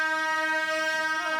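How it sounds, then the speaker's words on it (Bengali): A toy train sounds its horn in one sustained, steady tonal blast that bends slightly in pitch near the end, heard alone at moderate loudness. "এই যে খালি ট্রেনের আওয়াজ শুনো,"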